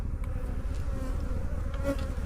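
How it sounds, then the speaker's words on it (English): Honeybees from a full hive in a tree buzz steadily nearby, a dense continuous drone with individual bees passing close, no voices. "there's a lot of bees out working in the field"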